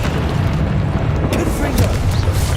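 An Incendio fire spell in the Hogwarts Legacy video game bursts into a loud, continuous roaring whoosh of flames with crackling pops, dense and close, over mixed game sound.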